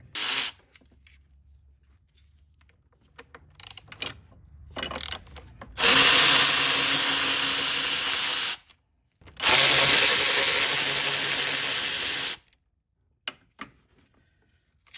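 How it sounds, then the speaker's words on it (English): Power driver spinning out Torx T30 bolts on a BMW 340i's B58 engine during a serpentine belt change, heard as two long steady whirring runs with handling clicks before and between them, no talking. "We're gonna remove these three Torx T30."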